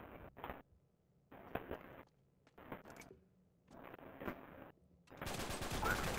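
Bursts of rapid gunfire crackle in separate volleys with quiet gaps between, ending in a dense, noisy barrage; game weapons fire in an Uncharted 3 multiplayer match.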